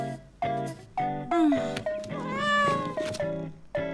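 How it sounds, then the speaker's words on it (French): Cartoon cat meowing in a French animated series: a quick run of about eight tonal meows and a longer drawn-out caterwaul, close and clear with no talk. "t'aurais pas envie d'adopter un chat?"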